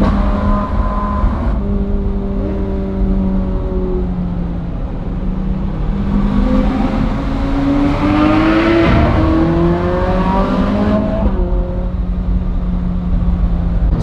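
Supercars driving the Flüela Pass mountain road in Switzerland, engines revving and climbing in pitch through repeated gear changes, loud, close and continuous, with no talk.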